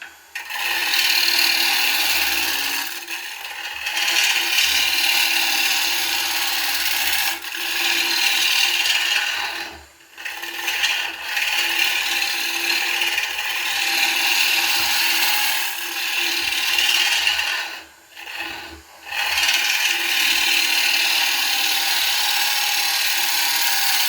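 A bowl gouge cuts a wooden bowl spinning on a lathe. The tool makes a loud, continuous, rough scraping hiss that breaks off briefly a few times and then resumes.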